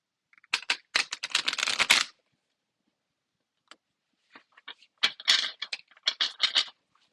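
Tarot cards being shuffled up close in two quick riffling bursts separated by a pause, with a few soft card taps in between.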